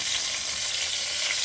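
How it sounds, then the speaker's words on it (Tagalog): Longganisa sausage frying in a pan at home, a steady, close, bright sizzle that stays even throughout a short moment with no voices. "nagpipirito po tayo ng langgunisa"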